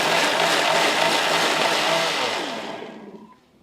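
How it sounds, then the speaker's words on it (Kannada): Mixer grinder blending cooked tomato and tamarind, a loud steady whirring motor that winds down and fades out near the end. "ಈಗ ಇದನ್ನು ನುಣ್ಣಗೆ ರುಬ್ಕೋತೀನಿ ನೋಡಿ"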